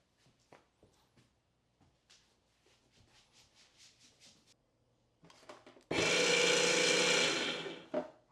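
Electric winch motor on a homemade quad-motor, dual rear axle electric skateboard, preceded by a few faint clicks and ticks, then a loud steady whirring run of about two seconds that cuts off abruptly.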